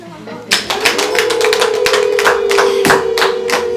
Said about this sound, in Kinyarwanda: Mumpera amashyi.